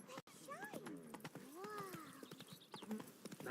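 Roach the horse runs in The Witcher 3, hooves clip-clopping steadily beneath overlapping voices and curving tonal game sounds, the hoofbeats fairly close and continuous.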